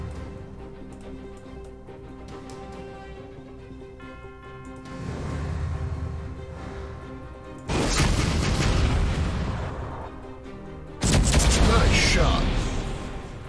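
Torpedoes strike ships in Sid Meier's Starships with rumbling booms. A steady hum builds into two loud, swelling explosive bursts. A voice talks over part of the action.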